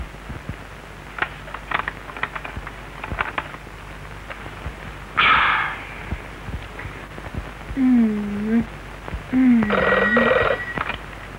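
A telephone rings twice in bursts over a steady background hiss with scattered clicks, followed by a short electronic tone.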